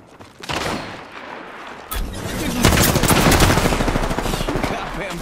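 Rapid automatic gunfire bursts in an Apex Legends match, starting after a brief lull and building into sustained, loud overlapping shots with game sounds underneath.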